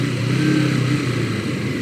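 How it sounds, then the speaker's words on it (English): A motorcycle engine hums steadily while riding through traffic, a continuous mid-pitched drone heard loud and close from the rider's position, no speech. "See, this is what's cool about a bike, you just get around."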